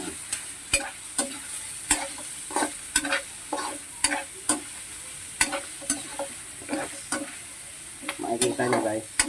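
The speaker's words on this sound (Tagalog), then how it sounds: "halo-haloin natin yan" Pancit bato noodles being stirred and sautéed in a pan with garlic, onion and pechay, giving a steady run of scraping, clacking utensil strokes over a soft sizzle that grows louder near the end.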